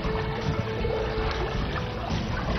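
A makeshift bamboo and tyre boat loaded with people, bicycles and motorbikes is dragged through Bihar floodwater, heard as a continuous close wash of moving water and low rumble.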